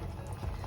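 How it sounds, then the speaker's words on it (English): Dhal lentils boil in a pot with a close, steady bubbling and low simmering rumble, no talk over it. "So just keep it boiling for a little while more"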